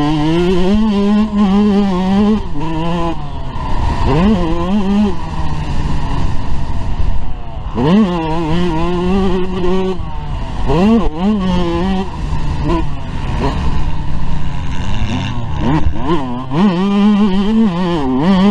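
A Yamaha YZ125 dirt bike fitted with Moto Tassinari VForce 3 reeds is ridden at the MX74 track, its engine revving hard and continuously, pitch rising and falling through repeated throttle and shift cycles, loud and close throughout.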